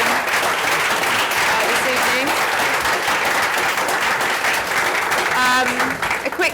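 Audience at a live EdTech podcast recording during London Edtech Week giving a sustained round of applause, thick continuous clapping throughout with a brief tonal beep near the end, close and loud.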